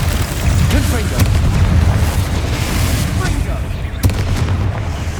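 A Confringo blasting spell explodes in the Hogwarts Legacy video game, with booming, rumbling blasts and sharp cracks over a continuous roar. A voice shouts spell incantations throughout.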